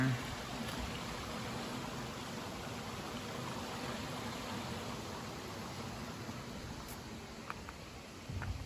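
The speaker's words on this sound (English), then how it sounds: "Little creek down there." A small creek flows beneath a bridge near an old California gold mine, giving a steady, even broadband rush of water that stays constant and moderately close throughout.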